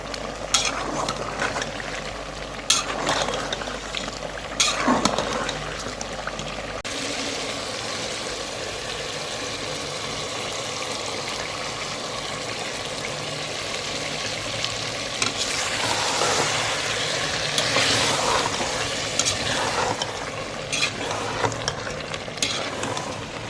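Beef karahi with black pepper, turmeric and other spices being stirred in a pan, a steady close scraping and bubbling sizzle running throughout with a brief louder clatter near the start.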